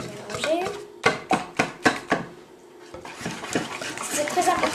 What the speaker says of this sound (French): C'est très important de mélanger avec un fouet